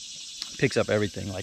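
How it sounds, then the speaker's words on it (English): A cicada buzzes loud and steady in the woods during a hunting outing, a high shrill drone running throughout beneath a man's close speech. "I'm sure you can hear a cicada right now in the background"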